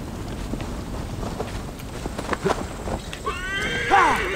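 Hooves clip-clop steadily before a horse lets out a loud, shrill neigh near the end, in Assassin's Creed Valhalla, with game-like ambience and no speech.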